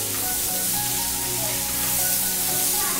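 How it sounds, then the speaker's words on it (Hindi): Tomatoes are tipped into a hot pan of onions for a tomato and onion curry, and a loud, constant sizzle of frying fills the whole stretch up close. "इसके बाद हम लोग डालेंगे टमाटर। टमाटर डाल दिए दोस्तों,"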